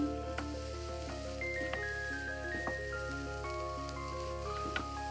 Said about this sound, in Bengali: এইভাবে আমি দুই মিনিট সময় ধরে ভালো করে ভেজে নিব